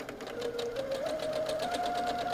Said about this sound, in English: then you go through and sew it on